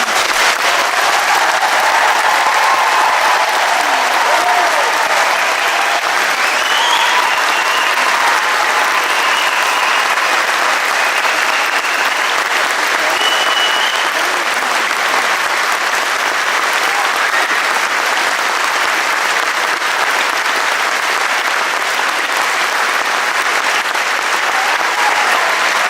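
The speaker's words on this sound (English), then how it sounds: "please give them a rounding, thunderous applause that prepares them for the rest of the day" Sustained, thunderous applause from a large graduation-ceremony crowd as the graduates stand, a dense wall of clapping that stays loud and steady for the whole stretch with scattered cheers rising above it.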